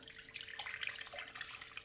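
Water streams steadily from a tap into a cup, measured out for bread dough, a soft continuous splashing trickle heard alone and fairly quiet.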